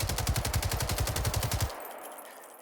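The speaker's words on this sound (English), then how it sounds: "the fire rate of the AK-5 or the AG-5 is very, very high" AK-5 automatic rifle firing in the video game Generation Zero: one rapid, loud burst of around sixteen evenly spaced shots lasting under two seconds, then an abrupt stop.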